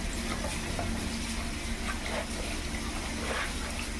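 Running water while laundry is rinsed in a basket, a steady, moderately loud gush and splash that continues unbroken throughout with no talking.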